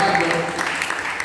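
Congregation clapping during a Christmas sermon in a church, a broad steady wash of applause with some voices mixed in.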